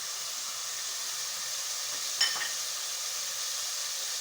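Cumin seeds and finely chopped green chilies sizzling in a pan, a steady soft frying hiss with a brief sharper crackle midway, no voices.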